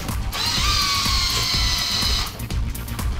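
A power drill whirs close and loud for about two seconds as screws come out of a PC case front cover, starting and stopping abruptly amid faint handling knocks.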